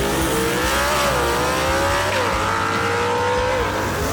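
Heads-up Superstock drag racing cars at Kil-Kare Dragway launching together, loud engines roaring and rising in pitch as they accelerate away, the dense mechanical din continuing without a break.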